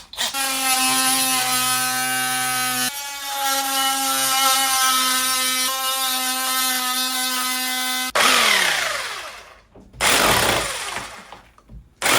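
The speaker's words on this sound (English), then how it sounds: "I've been using this SDS hammer drill just to chase" An SDS hammer drill chases a groove into a wall of a new house extension for electrics, a loud sustained whining motor with steady pitch shifting between runs, then spinning down and restarting in short bursts.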